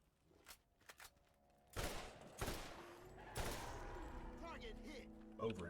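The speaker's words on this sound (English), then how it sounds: "it'll fire 3 shots because rifles fire 3 shots in this game." Bursts of rifle fire from a blue three-shot-burst rifle in the Borderlands video game, a few sharp, loud volleys with quieter game sounds between them.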